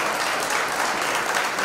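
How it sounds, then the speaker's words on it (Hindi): A theatre audience claps for students after a Sanskrit drama performance, brief continuous applause that sounds like a full hall, heard on its own without speech. "उन बच्चों के लिए भी एक बार तालियाँ बजा दी जाए"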